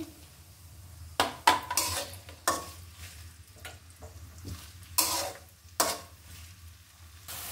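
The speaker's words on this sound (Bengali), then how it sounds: "পেঁয়াজটা ঢেলে দিচ্ছি, 1 কাপ হবে। পেঁয়াজ কুচিটা কেটে দিচ্ছি" Chopped onion frying in a pan, a steady low sizzle with several sharp scrapes and clanks of a utensil stirring against the metal.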